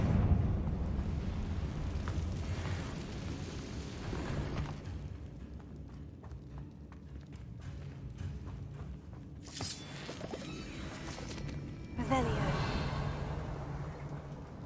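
A Confringo blasting spell goes off in Hogwarts Legacy, played on PS5: a loud, broad eruption that swells and fades, followed by a second burst near the end, under a continuous dense game soundscape.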